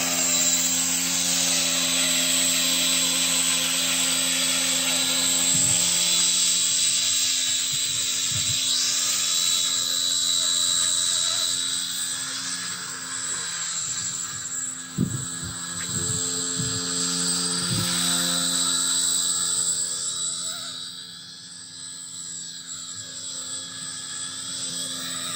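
A miniature toy helicopter's rotor spins steadily with a high, whining buzz close up, droning without a break, with a few faint knocks and bumps partway through.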